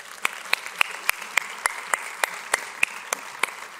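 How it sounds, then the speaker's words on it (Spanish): A church audience applauds, a soft bed of clapping punctuated by sharp, evenly spaced loud claps close by, roughly three per second, steady throughout. "Denle un fuerte aplauso al Señor"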